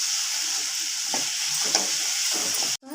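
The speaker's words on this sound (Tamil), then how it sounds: "வெங்காயம் நல்லா வதங்கிட்டோம் ஃப்ரெண்ட்ஸ்" Onions sautéing in a pan give a steady close sizzle with a few stirring scrapes, cutting off abruptly near the end.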